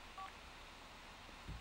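A phone in The Sims 4 video game plays a brief electronic dialing tone near the start. It is quiet and clean over faint background hiss, with no talking.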